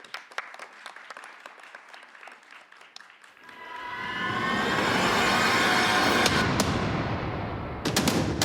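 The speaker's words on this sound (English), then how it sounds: "Ladies and gentlemen, a round of applause." Scattered claps at a tech startup challenge final in Tokyo, then a swelling rush of broadband noise and music-like tones for the presenter's entrance, with a few sharp hits near the end.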